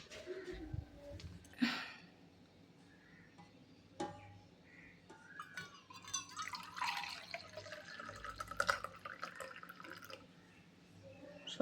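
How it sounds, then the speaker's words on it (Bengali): Milk is poured in a home kitchen, a soft liquid trickle with occasional clinks and drips that rises and falls quietly over several seconds, with faint background noise. "তো দুধটা ঢেলে নিই।"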